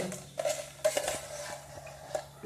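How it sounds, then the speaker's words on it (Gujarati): Mango seed mukhwas being scooped from a pan into a dish, quick metallic scrapes and clinks of a spoon against steel in a short cluster, close and moderately loud. "હવે આપણે આને ડીશમાં કાઢી લેવાનો છે"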